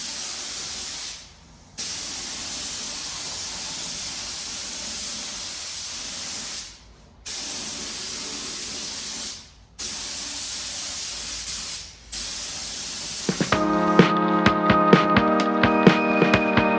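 Spray gun hissing as it lays a solvent-based base coat onto a classic Ford wheel, long steady bursts of loud airy spray broken by short pauses, then musical notes take over near the end.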